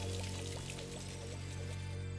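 Water splashing over Gooigi in Luigi's Mansion 3 on Nintendo Switch, a soft pouring, trickling stream with small drips over quiet game background music.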